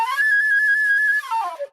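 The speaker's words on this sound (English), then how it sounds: "That's the sound of the flute." A sustained flute note from a rock recording holds steady and clear, then slides down and fades out at the end.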